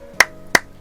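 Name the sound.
hands clapping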